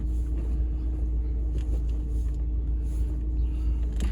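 A Mazda NA Miata being driven after a transmission fluid change, heard from inside as a steady, loud, low engine and road rumble with a constant drone and no talking.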